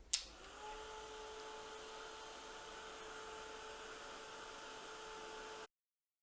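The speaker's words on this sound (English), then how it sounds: "now I'm going to melt the powder with my heat tool" A handheld craft heat tool blows a steady, even whoosh of hot air over embossing powder on a card, starting with a click and running unbroken for several seconds before cutting off abruptly.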